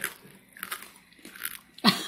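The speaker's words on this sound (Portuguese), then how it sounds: "Olha o torresmo crocante aqui, ó. Meu netinho comendo." A child biting into crispy fried pork cracklings, several soft crunches spread across the moment, then one sharper, louder crunch near the end, close and fairly quiet.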